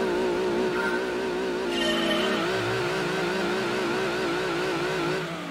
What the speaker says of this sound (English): Wheel spin.